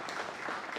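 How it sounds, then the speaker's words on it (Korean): Brief burst of audience applause at a church retirement and ordination ceremony, a dense, even patter of many hands lasting under a second with no voices over it. "우리 큰 박수로 드리겠습니다."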